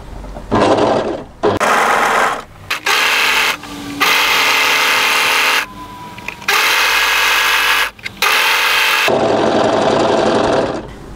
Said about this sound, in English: I'm only using my overlocker to trim off the stray threads